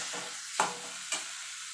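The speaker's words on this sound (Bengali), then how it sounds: "এবার দিয়ে ভালো করে পেঁয়াজের সঙ্গে একটু মিশিয়ে নেবো" Eggplant being stir-fried with garlic, dried chilli and onion, a steady frying hiss broken by two sharp scrapes of a spatula against the pan, close and without speech.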